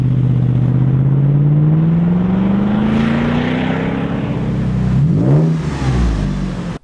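A Toyota 4Runner or Lexus GX460 SUV with an aftermarket exhaust drones loudly as its engine climbs steadily in pitch, then gives a sharp rev blip near the end, with no talking.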